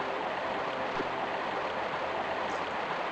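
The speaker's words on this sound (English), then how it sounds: "where the water's dropping down" Steady, broadband rushing of a waterfall pouring down in the Lost Valley of Tomb Raider 1, a constant hiss of falling water without pauses or voices.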